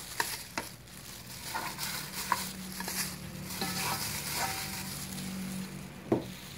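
Pre-blanched pork trotters being placed into an electric cooker pot, soft clunks and scraping knocks at irregular intervals over a low background hum, close and fairly quiet.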